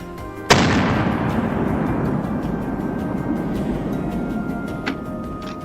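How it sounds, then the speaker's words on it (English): A single sharp, loud rifle shot from a wild boar hunt in a forest, the crack followed by a long rolling echo that fades slowly, with no talking. "A cold shot rang out, striking it dead on the spot."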